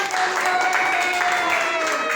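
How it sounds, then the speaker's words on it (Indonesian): A classroom applauds after a group presentation in a civics lesson, a dense, steady patter of clapping with a sustained vocal tone riding over it for the whole moment. "Oke, tepuk tangan dong."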